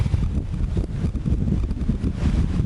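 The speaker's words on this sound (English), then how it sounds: "the wind's blowing the asparagus right over" Wind blowing hard through a backyard garden of asparagus and tomato plants, a loud continuous low rumbling buffet with rough gusty texture close to the microphone, and no voices.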